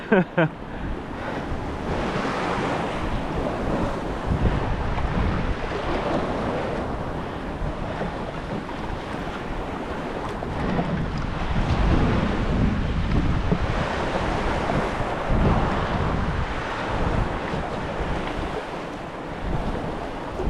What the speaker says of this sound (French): il y a des grosses vagues qui arrivent